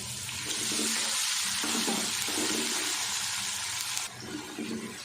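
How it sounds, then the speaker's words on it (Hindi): Water poured onto browning onions, ginger and garlic hits a hot pan with a loud, steady sizzling hiss that sputters and crackles throughout, close by. "थोड़ा सा पानी मैंने डाल दिया ताकि हमारे प्याज जो ज़्यादा ब्राउन हो रहे थे"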